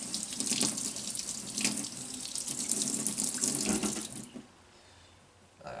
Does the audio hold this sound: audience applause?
no